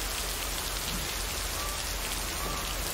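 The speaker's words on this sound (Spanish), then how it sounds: "Bajo la lluvia." Steady rain falling outdoors on a Sunday morning in September, a dense, even hiss of drops with no pauses, moderately quiet and heard alone without voices.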